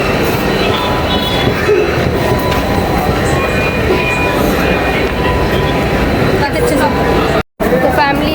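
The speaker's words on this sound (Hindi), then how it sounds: "और आ गई मेट्रो भी।" A metro train pulls into a station with a loud, continuous rumble and rail noise, faint wheel squeals and clatter throughout, while people talk nearby and a brief dropout interrupts near the end.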